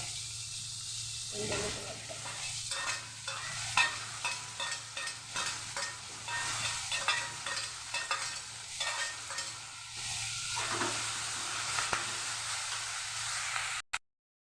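Onions and curry leaves sauté in a pan for chutney, a steady close sizzle broken by repeated scraping stirs, ending in an abrupt cut to silence.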